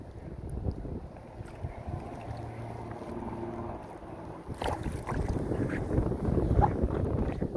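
Strong 40 mph wind buffets a fishing boat out bass fishing, a steady rushing roar with gusts and microphone wind noise that swell louder in the second half, with no talking.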